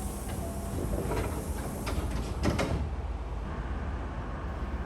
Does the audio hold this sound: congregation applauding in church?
no